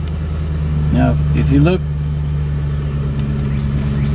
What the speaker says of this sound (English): So the key is on, the engine started.